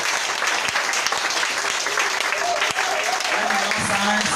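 An audience claps steadily and densely throughout, fairly close and continuous, while a voice speaks over the applause near the end.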